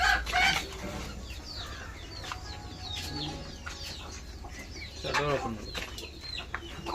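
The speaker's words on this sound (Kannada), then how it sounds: "ಈ ಕಡೆ ಕೋಳಿಯನ್ನು ಕೂಡ ಸಾಕೊಂಡಿದ್ದಾರೆ ನೋಡಿ ಇವ್ರ ಕೋಳಿ" Hens cluck and squawk in bursts at close range, loudest at the start and again near the end, over a low background hum.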